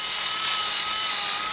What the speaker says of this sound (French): Donc votre perceuse, vous la mettez à la vitesse minimum.